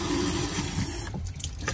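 Water rushes through the new inlet valve into a GE washer, a steady close hiss of flow that briefly breaks off before resuming.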